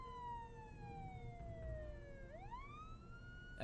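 A faint siren in the video game Jenny LeClue: Detectivu wails, its tone slowly gliding downward, then sweeping back up, distant and soft over a low background rumble.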